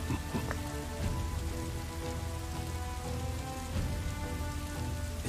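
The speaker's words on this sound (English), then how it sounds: "This never-ending rain, too." Steady, heavy rain pours across a cutscene in the video game Dynasty Warriors 8, a dense continuous wash of drops with no pauses and no voices over it.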